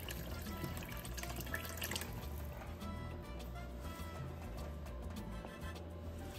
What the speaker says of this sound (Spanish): así que vamos a echar un poquito más.